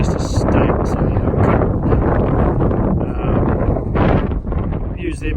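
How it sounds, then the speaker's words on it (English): Chilly wind gusts across a microphone on the Pacific Crest Trail in Washington, a steady loud rushing roar with buffeting swells, while someone talks over it. "the wind's a bit chilly"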